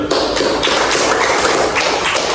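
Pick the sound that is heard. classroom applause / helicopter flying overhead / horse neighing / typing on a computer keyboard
classroom applause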